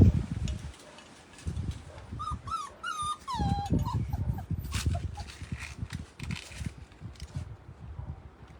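Puppies whimper and whine in thin, rising cries over a busy background of shuffling and handling noises, close by, with no talking during these sounds.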